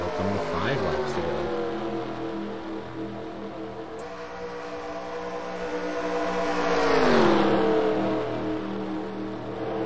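NASCAR stock cars racing on a track, engines droning loudly and continuously with one car's pitch sweeping past near the end, commentary running underneath.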